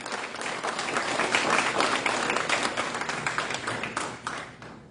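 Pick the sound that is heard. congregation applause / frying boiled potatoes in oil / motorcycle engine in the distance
congregation applause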